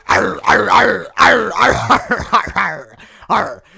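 A dog growls and barks close and loud in a rapid series of rough yips and barks, with brief gaps between bursts.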